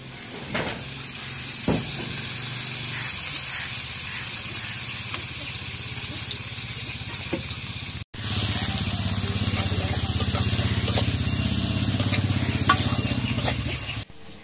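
Oil hissing and sizzling in a cooking pan, a steady close hiss with occasional clatter, briefly cut off midway and then resuming louder, with a little speech in the background.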